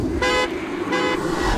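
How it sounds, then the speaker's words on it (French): A car alarm goes off in the video game Hitman: Absolution, two loud, rapid buzzing horn bursts separated by a short gap over low street background noise. "Est-ce que je vais faire peut-être déclencher l'alarme de sa voiture?"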